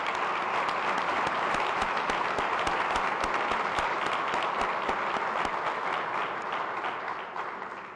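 Audience applause at a press conference, a steady, dense roll of many hands clapping for about eight seconds before tapering off at the end.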